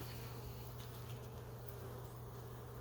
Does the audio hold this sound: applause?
no